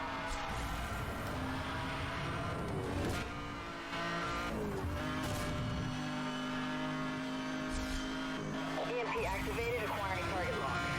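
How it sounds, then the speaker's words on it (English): A McLaren F1 screaming at top speed in the Need for Speed Hot Pursuit racing game, its engine roaring steadily with rising pitch sweeps and brief tire squeals, someone talking over it throughout. "Max out this McLaren F1 at 240."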